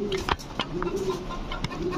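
Fancy pigeons such as Beauty, King and Lahori breeds coo softly at a pigeon farm, a low rolling murmur running throughout under scattered brief clicks and flutters.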